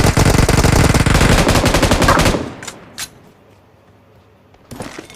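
Rapid automatic gunfire in PUBG Mobile rattles loud and close as a sustained burst, then cuts off, leaving a few scattered single shots and quieter game ambience.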